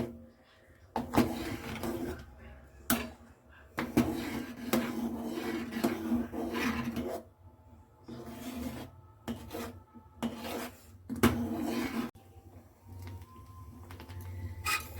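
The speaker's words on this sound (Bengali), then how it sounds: "সবসময় নাড়তে হবে ভালোভাবে নিচটা ঘষে ঘষে নাহলে কিন্তু লেগে যাবে" A spoon scrapes and rasps across the bottom of a pot of payesh, a rice pudding sweetened with jaggery, in repeated uneven strokes with short pauses, close and clear with no talk.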